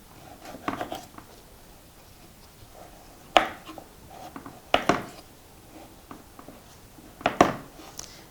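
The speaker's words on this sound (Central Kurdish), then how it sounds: "بەردەوامە بم لە وردکردنی پەتاتەکان" A knife chops potatoes on a kitchen board in a few irregular, crisp strikes with short pauses between them, close up and clear, without any talking.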